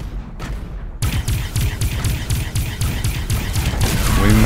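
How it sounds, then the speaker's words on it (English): Torpedoes fire at attacking pirate ships in the space game Avorion, a rapid, loud volley of repeated booming blasts in steady rhythm with a short lull at the start. "Pirates are attacking. Yeah, okay, there you go. Oops. Shoot our torpedoes."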